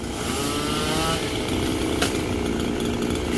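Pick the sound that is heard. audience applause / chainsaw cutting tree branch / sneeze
chainsaw cutting tree branch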